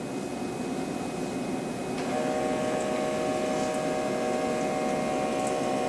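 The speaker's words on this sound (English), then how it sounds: "that D2 is inflating the left arm cuff" The PADnet 4.0 arterial-testing device pumps up a left arm blood pressure cuff, a steady mechanical hum that steps up partway through and continues evenly, with no voices.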